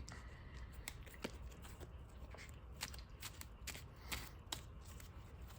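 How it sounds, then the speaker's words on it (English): Quiet, close-up riffling and flicking of playing cards being shuffled, a series of soft rapid snaps and slides in irregular bursts. "Get a quick shuffle here."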